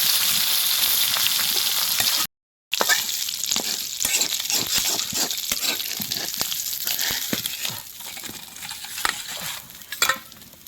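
Fish frying in oil in a pan, a dense crackling sizzle with frequent popping spatters, close and steady apart from a brief drop-out near the start.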